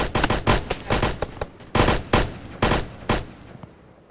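Rapid gunfire in the video game Blackhawk Rescue Mission 5, with sharp bursts of automatic shots in irregular clusters and short gaps between them, loud and close.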